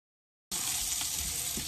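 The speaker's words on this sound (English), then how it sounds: "And a nice little sear on my steak." Steak sears in a hot pan after sous vide cooking. After a brief silence, a sudden steady hiss and sizzle starts close by and carries on evenly with no talking.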